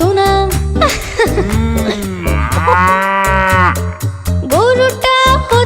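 A cow lows in a long, drawn-out call that glides in pitch, with shorter moos before and after it. The mooing is loud and close, with a musical backing throughout.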